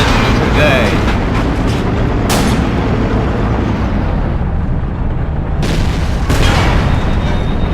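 In the video game Battlefield, an explosion blows up a tank turret amid loud, continuous rumbling battle noise with sharper blasts bursting through, while a voice talks over it.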